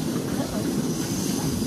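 A Magic Kingdom ride train running, a steady loud rumble of the moving train with rattling wheels throughout.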